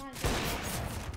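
A single sharp gunshot in CS:GO, close and fairly loud, its crack decaying into a short rumbling tail.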